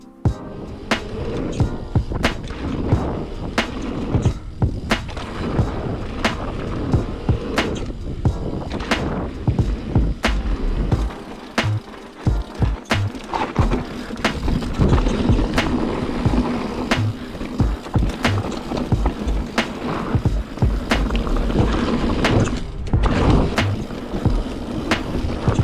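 A 2021 Commencal Clash mountain bike rattles down a rough trail, tyres roaring and the chassis clattering over repeated sharp impacts, with wind buffeting the microphone and no talk.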